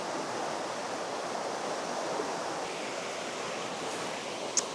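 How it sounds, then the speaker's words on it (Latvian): A small waterfall in a nature setting gives a steady, even rush of falling water, moderately close and unchanging throughout, with one brief faint tick near the end and no voices. "Es gribu jums parādīt to ūdenskritumu vēl labāk."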